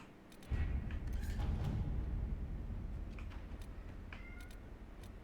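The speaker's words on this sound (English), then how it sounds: "I hear Bodhi just meowing at nothing" A cat meows several times at moderate distance behind a steady background hum, the calls rising and fading over a few seconds with no talking.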